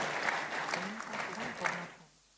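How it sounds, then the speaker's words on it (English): Audience applause at a public dialogue event in Abuja, a steady wash of clapping from a crowd that carries on evenly before fading out near the end, with a voice speaking over it. "I think she deserves another round of applause"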